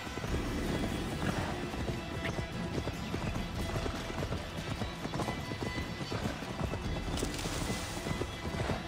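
Rapid hoofbeats of a horse in the video game Assassin's Creed Valhalla clatter in a continuous galloping rhythm, loud and close, with no voices over them.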